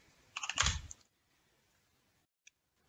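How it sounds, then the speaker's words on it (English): Keys on a computer keyboard are typed in a brief rapid burst of close clicks, followed by near silence and one last single key tap. "then type in msinfo32"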